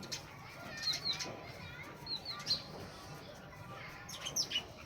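Several pairs of sparrows squabble over a single nest, with scattered sharp chirps and bursts of fluttering wings at close range over a quiet background.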